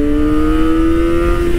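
A Kawasaki Ninja ZX-25R SE 250cc four-cylinder motorcycle engine revs high toward 15,500 rpm, a loud, close, steady whining tone sustained without pause.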